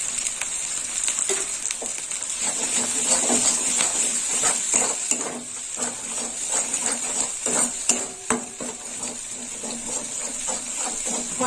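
Spice paste sizzling in a pan for a poppyseed curry with small Mourala fish, stirred with a utensil that scrapes and clinks against the pan in irregular strokes over a bright, steady frying hiss.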